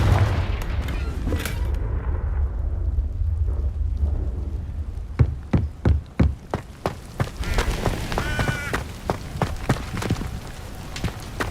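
The Confringo blasting curse in the Hogwarts Legacy video game fires off as a string of sharp booming blasts and cracks over a rumbling, stormy wash of battle noise, loud and close, with no talk.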